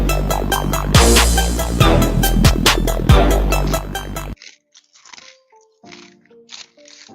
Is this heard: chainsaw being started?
no